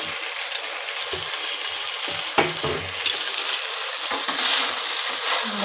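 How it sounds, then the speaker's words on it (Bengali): Pasta being stirred in a pan with vegetables and chopped coriander, giving a continuous close sizzle with occasional soft scrapes and clinks of the spoon against the pan. "দেখো এবার আমি ভালো করে সব সবজির সাথে ভালো করে পাস্তাটাকে মিশিয়ে দিলাম।"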